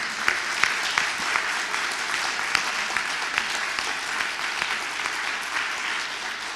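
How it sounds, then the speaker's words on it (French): Audience applauding at a children's reading competition final, continuous even clapping with a few sharper individual claps standing out throughout. "on encourage, on applaudit."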